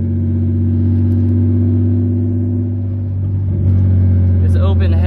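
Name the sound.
car engine with open headers revving while drifting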